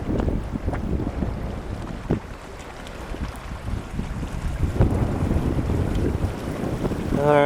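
Gusty wind at Cottonwood Lakes blowing hard across the microphone, a continuous rough roar with lake water lapping below, no one speaking.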